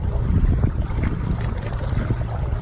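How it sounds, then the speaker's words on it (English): The outboard motor of a 16 ft Saturn SD488 inflatable boat revs up on open water as it gathers speed. The motor drones under steady wind buffeting and water splash, with no talking. "You can hear the sound going up. It's revving up."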